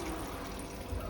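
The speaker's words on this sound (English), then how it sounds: "We're going to add our soy sauce to the mixture." Soy sauce poured into a pan of sautéed beef for Mongolian beef, a soft, faint liquid trickle lasting about a second against quiet kitchen background.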